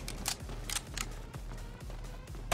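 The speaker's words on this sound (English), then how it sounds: "Reloading." A weapon being reloaded in the Dirty Bomb video game, giving a quick run of sharp mechanical clicks and snaps over a steady low background drone.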